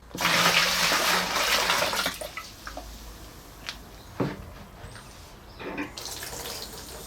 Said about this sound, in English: wait while the water level slowly comes down and down and down into this radiator